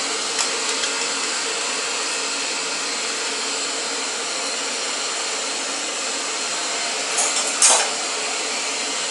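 Portable gas stove burner hissing at full power on a stand: a steady, even broadband roar holding constant throughout, close and moderately loud, with a couple of faint clicks near the end and no talk.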